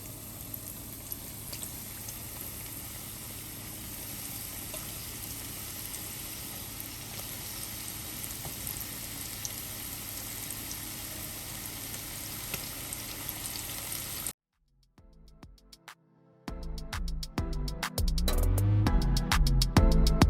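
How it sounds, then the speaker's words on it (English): Oil crackles and sizzles steadily for a long stretch as chicken fries in a pot, then cuts to a quieter moment followed by louder clattering and stirring sounds. "now that my chicken is in the pot frying"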